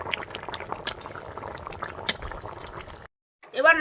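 Taro (kochu) boiling in a pot gives a steady bubbling, liquid churn for about three seconds, then briefly cuts to silence before a voice starts talking near the end.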